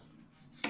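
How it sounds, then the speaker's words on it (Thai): A knife chops once through boiled pork tongue on a board, a single near, sharp cut landing at the end of a short stretch of quiet kitchen room tone. "เดี๋ยวเอาหั่นซะก่อน"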